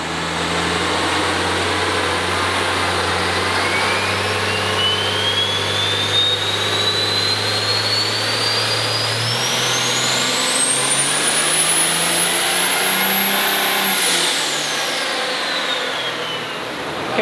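Turbocharged race engine roaring on a dyno at full load, a loud continuous drone with a turbo whine rising steadily in pitch, peaking, then dropping off as the run ends.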